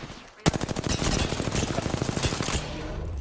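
Rapid automatic gunfire in the battle-royale shooter Apex Legends, a sustained burst of evenly spaced loud shots lasting a few seconds after a sharp first crack, close and dominant with no talk.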